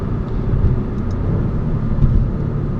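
Alfa Romeo Giulia Quadrifoglio accelerating, a steady low engine rumble heard from inside the cabin, continuous and fairly loud with slight swells as it picks up speed.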